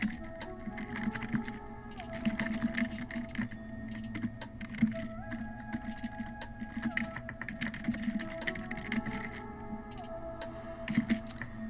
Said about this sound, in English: you're going to type in the title of the actual journal